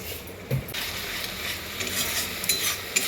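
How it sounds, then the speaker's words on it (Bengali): Spice masala stirred and fried in a pan makes a continuous sizzle under scraping strokes of a spoon, with a sharper knock near the start and another near the end and no voices. "দেখো আমি মশলাটা ভালো করে এবার কষিয়ে নিচ্ছি।"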